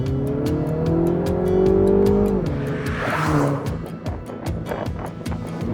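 Mini Cooper S hatchback (F56) with a combustion engine and manual gearbox, driving along a roadside with its engine note rising through a gear, dropping on a shift, then pulling again, close and steady with faint road and tire noise.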